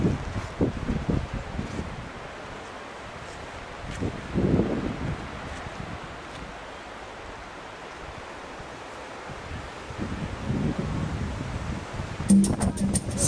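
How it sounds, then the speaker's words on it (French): Strong gusts of wind on an archipelago sweep over a campsite, a steady rushing noise with louder bursts now and then, fairly soft overall. "Les rafales de vent réputées dangereuses sur l'archipel ravagent le campement et ses occupants."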